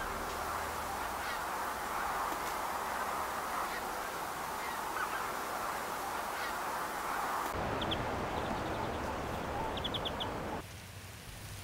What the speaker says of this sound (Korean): 주변에 가득한 새들의 소리와 움직임이 삭을 자극합니다.